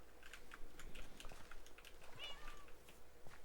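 A cat meows faintly once or twice inside the Minecraft video game, heard against a soft steady background with light clicking like keyboard typing.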